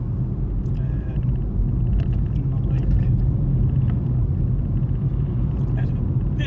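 A Ford Fiesta Trend 1.1 drives along a road, its engine and tyres giving a steady low rumble heard from inside the cabin while a voice talks over it.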